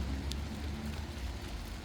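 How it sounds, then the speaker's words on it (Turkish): Steady rain falls outdoors where flowers stand under the open sky, a continuous soft hiss of drops with a low rumbling undertone, faint and even throughout, with no talk. "Gördüğünüz gibi yağmur yağıyor."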